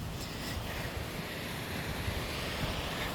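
Steady, dense rush of falling water at Kunchikal Falls, Karnataka, a continuous broadband roar with no pauses, close and fairly loud, no voices.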